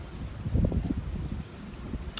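Gusty wind buffets a porch on a gray day ahead of rain, a low rumbling rush swelling and easing in the microphone with no voices.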